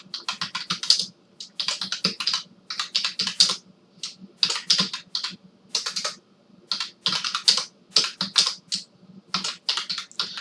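Fingers type on a computer keyboard while a form title is entered, quick close bursts of key clicks in uneven runs separated by brief pauses, with no speech.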